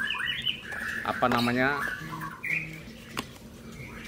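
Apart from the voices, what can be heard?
birds squawking at a bird market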